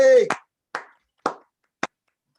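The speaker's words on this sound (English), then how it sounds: "Everybody join me in a warm round of applause for Blake Crawford." A few slow, separate hand claps in an online meeting, following a brief voice: four crisp claps spaced about half a second apart, close and isolated against silence.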